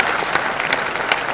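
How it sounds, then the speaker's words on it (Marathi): An audience claps in an auditorium during a patent festival event, a dense, steady burst of applause from many hands close by, with no voices over it. "एकदा तुम्ही सर्वांनी तुमच्यासाठी टाळ्यांचा गजर करणं गरजेचं आहे"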